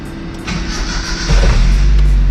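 An old Nissan car with the clutch pressed to the floor, its engine cranking and catching into a loud, deep low rumble that settles into a steady idle, heard from inside the car.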